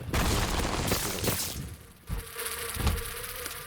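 Flies buzzing in The Binding of Isaac, a continuous insect-like droning hum mixed with game sound effects and a few dull thumps, steady and fairly loud with no talk.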